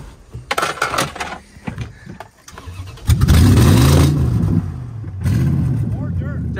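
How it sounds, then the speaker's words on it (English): A Dodge truck's engine barks through a few short blips, then revs hard and sustained with a rising and falling roar close by, while voices are heard briefly before the revving. "Okay, we'll rev it up."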